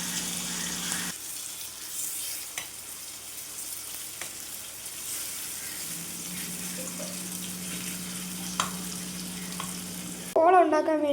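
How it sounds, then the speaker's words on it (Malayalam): Masala-marinated sausage frying in a pan gives a soft, steady sizzle through most of the stretch, with a faint hum and small clicks. It ends in a louder burst of clatter. "ഇനി നമുക്ക് മസാല പുരട്ടി വെച്ചിരിക്കുന്ന സോസേജ് ഫ്രൈ ചെയ്തെടുക്കാം."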